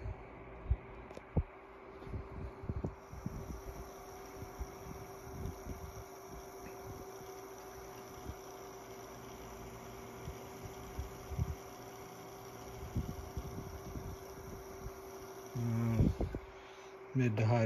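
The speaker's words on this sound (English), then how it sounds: "The blade definitely has kind of a distinct sound." A 1980s Toshiba 12-inch oscillating desk fan gives a steady, soft, airy whir with a low hum. The whir runs throughout and is faint, with scattered light knocks, and ends with louder handling noises.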